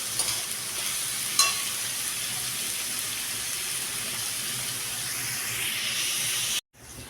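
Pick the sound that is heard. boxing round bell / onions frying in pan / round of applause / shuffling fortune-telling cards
onions frying in pan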